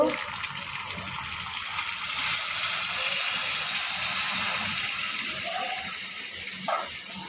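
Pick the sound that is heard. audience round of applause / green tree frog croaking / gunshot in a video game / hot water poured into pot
hot water poured into pot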